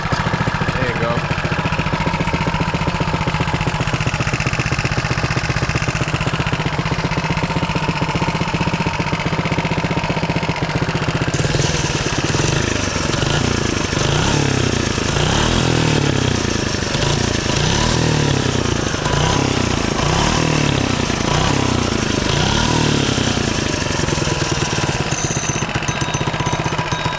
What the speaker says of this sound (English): Back running way better than the last motor that was.